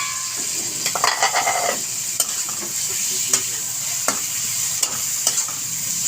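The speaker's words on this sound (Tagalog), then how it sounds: "Tapos ilagay natin tong laman." Pork belly sautéed with tomato and onion in a pan sizzles steadily, with a spatula stirring and scraping in repeated bursts and occasional sharp clicks against the metal, close and fairly loud throughout.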